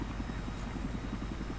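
A helicopter in the video game Battlefield 3 thumps with a rapid, steady rotor pulse, a low chopping drone that holds evenly throughout the short moment.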